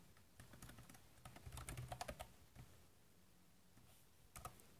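Key presses on the keyboard dock of an ASUS Transformer Pad TF701 tablet, a quick, uneven run of close, crisp clicks with a short burst near the end, no voices.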